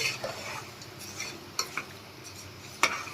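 A spoon stirs jaggery melting in a pan over a low gas flame, soft scraping with a few light clinks against the metal, quiet and close.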